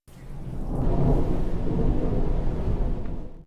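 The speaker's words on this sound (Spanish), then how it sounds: "Pasamos a la siguiente escena con un trueno de fondo." Thunder in a scene from the film Relatos Salvajes (segment Las Ratas): a single deep, sustained rumble that swells and rolls for a few seconds before cutting off, with a faint hiss like rain beneath it.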